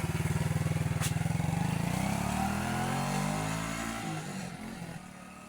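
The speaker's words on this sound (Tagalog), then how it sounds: "drive test natin yung motor na inassemble natin na assorted na motor, XRM110 SYM ang makina" Assembled motorcycle with an XRM110 SYM engine on a drive test, its single-cylinder engine running close and loud with a steady putter that rises as it accelerates, then gradually fades and eases off.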